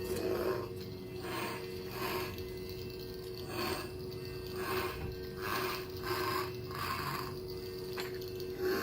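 Blade being slid into a shorty lightsaber chassis, heard as a series of close, scraping rubs repeating roughly every half second over a steady low hum.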